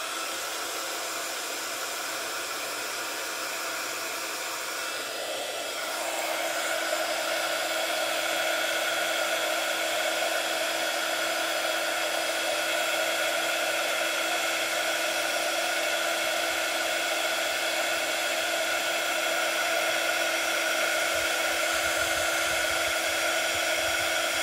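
A heat gun blows steadily for heat embossing on a card, a continuous loud whirring hiss that steps up slightly in intensity partway through and runs on without a break.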